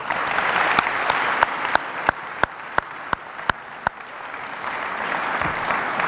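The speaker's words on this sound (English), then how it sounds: "So I think that does deserve a round of applause." An audience claps at a high school spring awards ceremony, a dense, steady wash of many hands with a few sharp louder claps standing out near the front, sustained throughout without talking.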